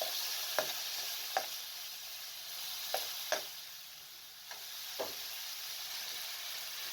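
Chicken with dry spices frying in a pan, a steady soft sizzle with several sharp scrapes and knocks of a stirring spoon spaced a second or so apart, no talking.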